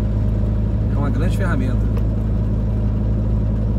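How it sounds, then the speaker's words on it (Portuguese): A new Scania nine-axle truck on highway BR-163 accelerates past, a loud, continuous low engine roar with a brief rising whoosh in the middle, while someone talks over it. "E vem aí o novo Scania, no 9 eixo passando aí, ó. Acelerando."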